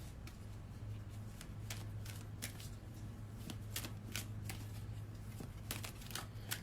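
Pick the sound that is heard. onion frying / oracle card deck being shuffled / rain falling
oracle card deck being shuffled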